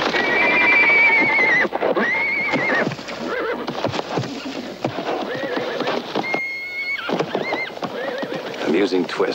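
Horse whinnies and neighs ring out loudly in a western film scene, with clip-clopping hooves and scuffling around them, then another whinny rises near the end as the commotion continues.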